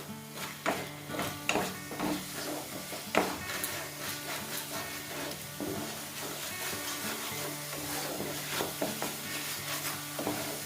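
Spice paste of chilli and ground spices frying in oil while being stirred repeatedly, a continuous sizzle broken by frequent scraping and clinking strokes against the pan, without speech.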